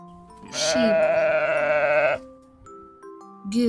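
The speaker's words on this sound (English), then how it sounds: "Sheep." A sheep bleats once in a long, wavering cry that dominates the middle of the clip, followed by a quieter pause and the start of another bleat at the end.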